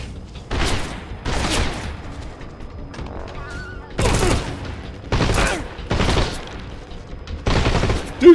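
Gunfire in the Metal Gear Solid game Delta comes as seven separate loud bursts of rapid shots at irregular gaps, with faint mechanical clicks between them.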